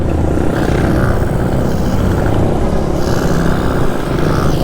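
A small scooter engine runs close by, a steady rough motor drone with some clatter and no clear revving, continuous throughout.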